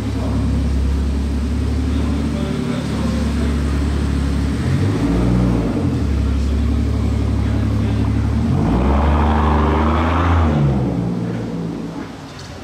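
A hypercar's engine revs hard near the street in Monaco, swooping up and down in loud rising and falling sweeps over a deep idling rumble. Voices can be heard faintly in the background.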